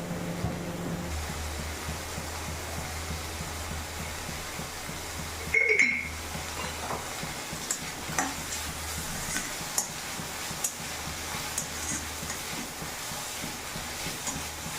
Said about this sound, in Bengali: একটু ভাজা ভাজা হয়ে যাওয়ার পরে তার মধ্যে আমি মাশরুম আর একটুখানি কাঁচা পেঁয়াজ দিয়েছি। এটা একটুখানি স্টার ফ্রাই করব